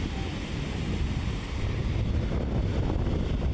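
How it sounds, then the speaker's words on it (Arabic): Sea waves roll onto a beach at Port Said in a continuous loud wash of surf, mixed with buffeting wind against the microphone and no voices. "طبعا هنا انا بسمعكم صوت الموج كده لان صوته كان روعة"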